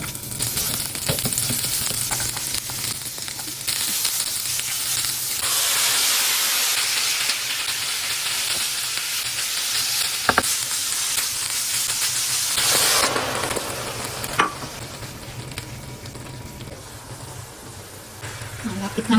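Marinated beef bistek Tagalog fries in a pan with a continuous, bright sizzle that swells and eases, sharp crackles popping through, while a voice speaks over it at times.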